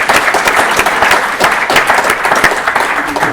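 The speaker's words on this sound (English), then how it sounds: "I think this requires an applause." Audience applause at a talk event in a restaurant setting, a dense, steady burst of many hands clapping close by, with faint voices mixed in.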